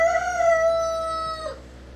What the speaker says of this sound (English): The chickens are out and they're right at the back door of the shop and they won't leave.